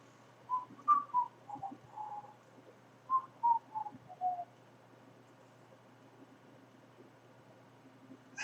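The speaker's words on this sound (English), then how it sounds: "now I'm just going to whistle and look out the window." A person whistles a short tune in a series of clear, soft tonal notes in two phrases, then falls silent in a quiet room.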